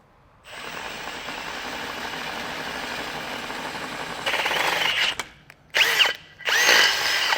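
A power drill whirs steadily for a few seconds, then revs in short bursts, stopping and starting as it bores through a vehicle's front end near the radiator, with no speech.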